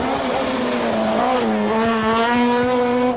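Lancia rally cars race flat out on a 1983 San Remo Rally stage: a loud, close, high-pitched engine howl climbs through the gears and holds a sustained scream.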